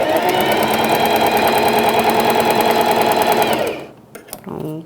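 Sewing machine stitching and backstitching a pet bandana: a fast, steady mechanical whirring chatter close up for nearly four seconds, then stopping, followed by a few small clicks and a voice speaking briefly.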